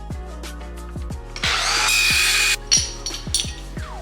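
Power tool cutting a hole through a section of a metal mount for a 50 HP Power Wheels build, a loud sustained whine in the middle of the clip among repeated sharp knocks and clanks.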